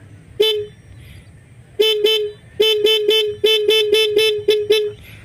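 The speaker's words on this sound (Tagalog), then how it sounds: "Ito yung busina" Close, loud rapid horn on a Honda Click scooter wired with an interrupter relay: a single toot, a pause, then a rapid series of short beeps in quick succession.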